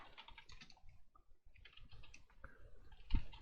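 Fingers type on a computer keyboard in quick, uneven bursts of soft clicks with short pauses, close and fairly quiet, ending with a louder thump.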